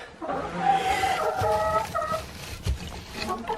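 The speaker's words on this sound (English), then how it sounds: "these are cold weather chickens, so they do well in the cold" Cold-weather chickens cluck and chatter close by at a snowy off-grid cabin, several short calls overlapping in a busy, uneven rhythm.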